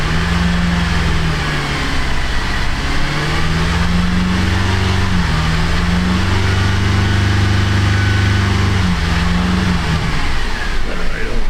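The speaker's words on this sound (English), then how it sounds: "Let me just give it the classic rev up, tune up here." A 2011 Buick Enclave engine that won't stay running, rumbling loud and close at idle with a few rises and dips in pitch as the throttle is blipped, then sagging toward a stall.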